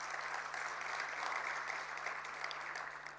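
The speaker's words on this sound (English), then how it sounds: "certainly deserves a massive round of applause" Sustained applause from a dinner audience at a budget review dinner session, a steady broadband wash of many hands clapping continuously throughout, fairly even in loudness with no talk over it.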